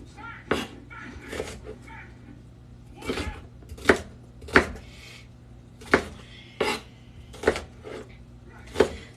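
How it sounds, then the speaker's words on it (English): Onions being chopped into large chunks on a cutting board while making mac and cheese, a series of sharp knife thuds, about one to two per second, close and clear with room tone behind. "I'm only probably going to be chopping them up into like 8-ish pieces"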